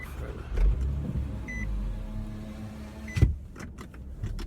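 A car's electric power window motoring up, a steady whirring hum over the idling car's low rumble with a few small clicks and thumps, close by and with nobody talking.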